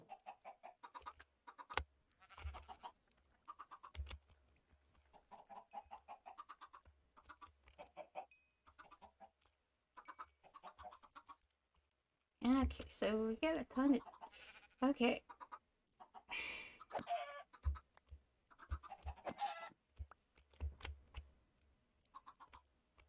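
Bleating, clucking animal calls from Minecraft chickens, short repeated cries scattered through the stretch, mixed with a person talking quietly over gameplay.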